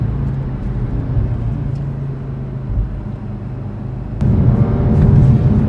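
A 2018 Audi RS3 drives along with a low, steady engine rumble that swells louder and fuller near the end, heard from inside the car with no talk.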